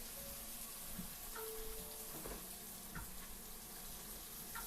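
Tap water running steadily into a bowl of mushrooms for rinsing in a home kitchen, a soft, continuous hiss with faint clinks and thumps.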